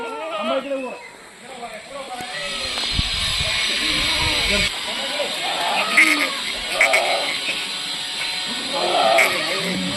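Kathiawadi goats unloaded from a vehicle bleat repeatedly in wavering calls, several animals close by, over steady background hiss and someone talking.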